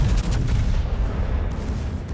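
A German Tier IX Pommern battleship fires a gun salvo in the World of Warships video game, a loud booming blast with rumbling low-end reverberation that lingers and fades over a couple of seconds.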